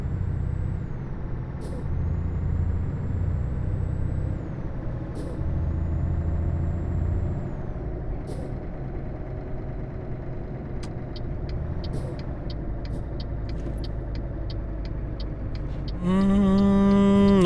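A truck in Euro Truck Simulator 2, a Scania, with a loud steady engine drone and periodic air-brake hisses, rising in pitch as it speeds up near the end; no talking.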